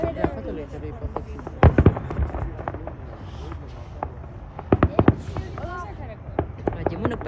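Sharp bangs and crackling bursts of fireworks at the Calgary Stampede, scattered in clusters at moderate distance, with people talking throughout.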